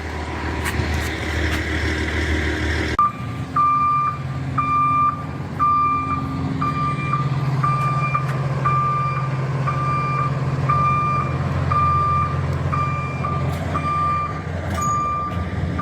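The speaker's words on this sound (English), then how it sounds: "they are here with the truck" A delivery truck at a driveway paving job sounds steady, evenly spaced reversing beeps over a rumbling diesel engine, loud and close, with a brief hiss near the start.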